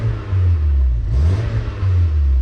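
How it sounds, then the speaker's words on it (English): A stock Volkswagen MK3 GTI engine revs hard and close, a loud steady low drone that swells and dips through a quick rise in pitch around the middle, continuous for the whole stretch with no talking. "for being stock, the car has a good sound to it"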